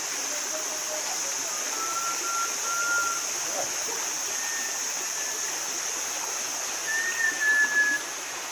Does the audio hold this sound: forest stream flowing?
yes